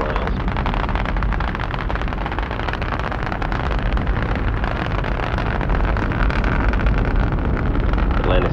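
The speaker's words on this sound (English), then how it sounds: "Three engines on Atlantis are now throttling back to two-thirds throttle" Space Shuttle Atlantis launching, its three main engines producing a continuous broadband roar that stays loud and steady, dense and crackling, with no voices over it.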